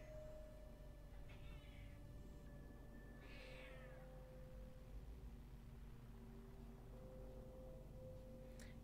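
Video game cat meowing twice, short rising mews over a steady low hum and faint tonal background music, fairly quiet and without talk.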